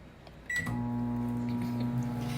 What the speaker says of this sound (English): I'm making me some coffee in the microwave today.